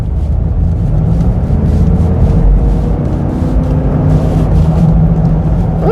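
Engine noise from a 2011 Ford Expedition SUV with high miles, heard from inside the cabin during hard acceleration: a steady, loud low rumble with harmonics that slowly rise in pitch, plus road noise and no talking.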